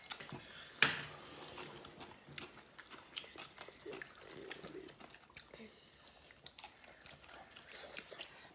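One sharp, crisp crunch of a bite into fried chicken skin, followed by soft, quiet chewing sounds.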